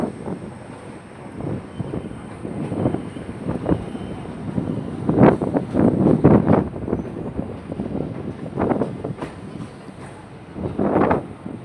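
Inside an MRTS commuter train running between St Thomas Mount and Velachery: a continuous rumble with irregular rattling bursts and rolling clatter, steady wind-like noise underneath, no voices.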